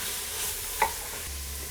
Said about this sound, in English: I'm going to cook this another 6 to 8 minutes until that meat is no longer pink